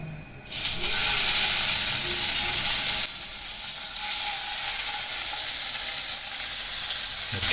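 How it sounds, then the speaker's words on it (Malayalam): Chicken sizzles steadily in a pan for Kanthari creamy chicken, a loud broadband hiss that swells sharply after a quiet start and then eases slightly, with faint clicks of stirring and no talk. "പിന്നെ അത് ഫ്രൈ ചെയ്യാൻ പോവാ"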